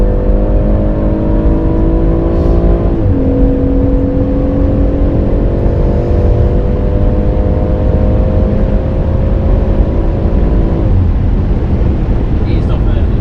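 A car accelerates on the Goodwood circuit, its engine holding a loud, steady drone close by that drops in pitch once partway through and then climbs again. A voice coaches the driver over the engine.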